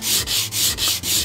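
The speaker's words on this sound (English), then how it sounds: "Sand the bottom flat" Five even back-and-forth strokes of sandpaper rubbing on wood, flattening a guitar saddle, close and steady in a regular rhythm.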